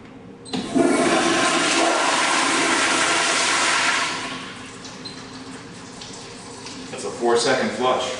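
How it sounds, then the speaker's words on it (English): A household toilet that uses 1.6 gallons per flush roars loudly for about four seconds, then drains and refills more softly, with light gurgling near the end. "we've got the toilet flushing. There we go. The water flowing through."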